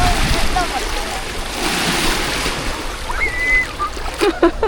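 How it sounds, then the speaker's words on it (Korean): Ocean surf rushing and washing continuously at a beach, a broad steady roar with splashy swells, while voices talk and exclaim over it. "파도가 역시 장난 아니다"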